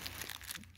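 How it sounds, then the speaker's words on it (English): Fiberglass chop mat is handled by someone working on a car's bubble hood, giving faint, close, scratchy crinkling rustles in short irregular bursts. "This is what the chop mat looks like."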